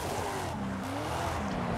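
Crown Vic car in a video game drifting, with a sustained tire squeal in wavering tones over steady engine noise, continuous and moderately loud.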